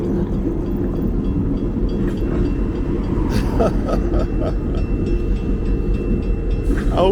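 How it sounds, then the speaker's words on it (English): A train passes a road crossing during an e-bike ride, giving a loud, steady, close rumble that fills the whole stretch, with a few faint higher clanks partway through. "Shoot, a train."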